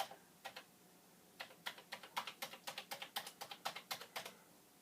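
Keys clatter on a Commodore 64 keyboard during testing, first a few scattered taps, then a quick irregular run of crisp clicks, fairly faint and close with no talking.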